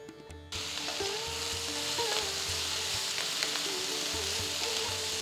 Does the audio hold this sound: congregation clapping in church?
no